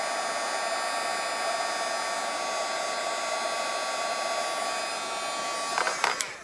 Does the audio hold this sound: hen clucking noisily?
no